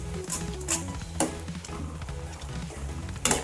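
Cooked dal is stirred into a thickening mixture in a pan, giving a soft continuous sizzle with occasional sharper scrapes and spoon knocks, set under a quiet musical bed.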